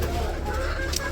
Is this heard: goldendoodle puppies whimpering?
no